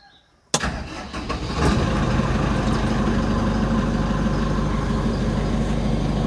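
A self-loading concrete mixer's engine cranks and catches with a sharp onset, then rises into a steady, loud diesel idle that drones close by, with no talk.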